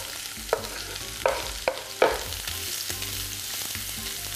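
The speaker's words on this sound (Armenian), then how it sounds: "առաջին հերթին կտապակենք գազարը" Sliced carrots frying in a pan, a soft continuous sizzle broken by four distinct spatula scrapes and taps in the first two seconds.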